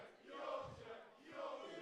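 A crowd at a women's university darts match between York and Lancaster cheers and shouts in two swelling roars, fairly distant and faint, no talk.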